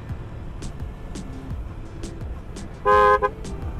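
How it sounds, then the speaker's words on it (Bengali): A single loud, brassy blast from a hydraulic horn fitted to a Yamaha R15M motorbike cuts sharply over a steady low engine rumble, then stops. "এই দেখেন হাইড্রোলিক হর্ন লাগানি বাইকের মধ্যে।"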